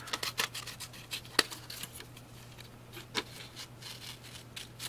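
Scissors trimming paper for a flip flop card, a series of quick crisp snips and soft paper rustles, close and fairly quiet, irregular in rhythm.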